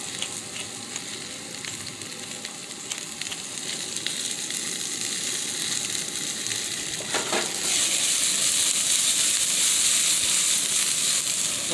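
Kielbasa pieces with a little grease sautéing in a pan, a steady close sizzle and crackle with occasional stirring scrapes, growing louder and brighter partway through.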